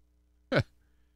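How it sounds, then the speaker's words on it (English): A single short burp, close and abrupt, lasting a fraction of a second against a quiet background, from a man on a radio broadcast. "I come on the air and I start burping"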